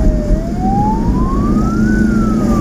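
An ambulance siren wails loud and close in one long rising and falling sweep during a patient escort in Bandung, with engine rumble underneath.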